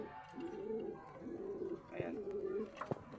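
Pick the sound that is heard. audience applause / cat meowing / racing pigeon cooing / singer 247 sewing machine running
racing pigeon cooing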